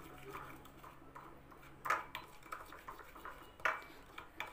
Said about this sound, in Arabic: وهنبدأ نقلب معلقة الخل كويس قوي على الملح والقهوة كويس جدا